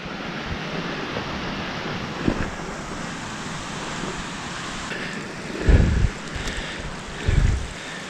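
A mountain creek runs beside a hiking trail on Mt Lindsey's northwest ridge route, giving a steady, close rushing wash mixed with wind noise and a few dull bumps.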